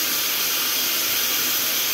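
A kitchen pressure cooker vents steam in a loud, continuous broadband hiss that stays steady throughout and drowns out everything else.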